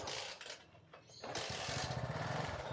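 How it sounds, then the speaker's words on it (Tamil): A small motorbike engine cranks and catches, then settles into a steady, buzzy running drone close by. "இப்போ வந்து நான் வண்டியை ஸ்டார்ட் பண்ண போகிறேன்"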